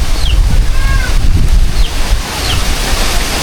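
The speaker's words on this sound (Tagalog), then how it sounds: "Ang hangin." Strong wind buffeting the microphone in continuous gusty rumbles, with faint bird chirps and distant voices underneath.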